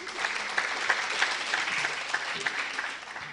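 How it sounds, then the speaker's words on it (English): Audience clapping at a ladies' product training camp in Dubai, a steady wash of hands through the whole stretch with scattered sharper claps standing out, moderately loud and close. "Doesn't that happiness deserve more clapping?"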